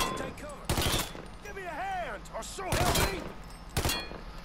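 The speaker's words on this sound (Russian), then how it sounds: "Патроны, конечно, летят туда, куда надо." Gunfire rings out in the video game Mafia 3 as three sharp, loud shots or short bursts land a second or two apart. A voice is heard between the shots.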